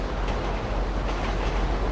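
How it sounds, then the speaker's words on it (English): A train rumbles along the tracks in Grand Theft Auto V, a loud, steady low roar with rolling noise and no talking. "Might just be train noise."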